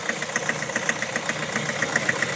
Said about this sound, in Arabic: شفت الموتور كيش يرعش تمشي دروا سيلندر